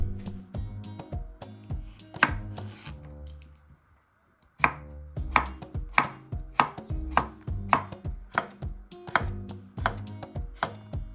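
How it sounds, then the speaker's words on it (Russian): A knife slices three cucumbers into half-rings on a cutting board, giving a steady run of crisp, close chops, a short pause partway through, then quicker regular strokes with no talking. "Три огурчика нарезаем полукольцами."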